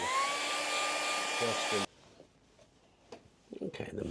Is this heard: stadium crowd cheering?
no